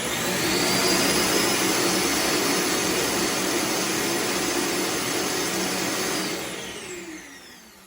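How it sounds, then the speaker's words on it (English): An iRobot Roomba Combo j7+ self-emptying base runs its suction to empty the docked robot vacuum, a loud, close, steady roaring whoosh that holds for several seconds and then winds down at the end. "Once the robot is fully docked, the vacuum is going to start. So it's going to get very loud,"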